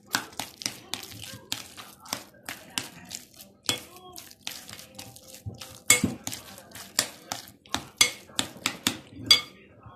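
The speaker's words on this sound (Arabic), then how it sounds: "نخلط مع بعض كده الجبن كلها مع بعضيها كده بالشكل ده" Cheese for Turkish börek is mixed in a bowl with a utensil, giving repeated clinks, taps and scraping knocks in an irregular rhythm, close and fairly loud, with a person talking intermittently.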